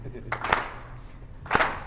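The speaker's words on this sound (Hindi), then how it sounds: "ताली नहीं रुकनी चाहिए" Two short bursts of hand clapping, a few claps each, sound in a morning TV show studio over a low background hum, fairly faint and separated by a pause.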